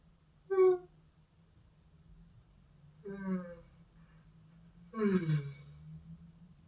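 A person yawning during a slow stretching routine, three drawn-out breathy yawns spaced a couple of seconds apart over a low steady hum, quiet and close.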